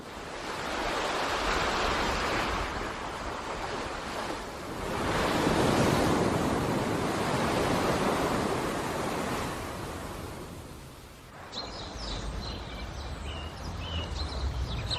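Sea surf rolls in steady broad washes of breaking waves, loud and continuous with swelling and easing surges, wind noise mixed in, and a brighter hiss of foam near the end.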